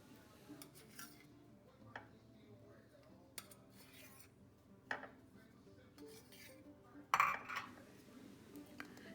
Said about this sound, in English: Now I am almost done removing the idlis from the idli pans